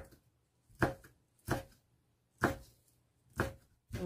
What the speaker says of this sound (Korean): 이 흰다리 새우살을 이제 다져서 또 준비를 해보겠습니다.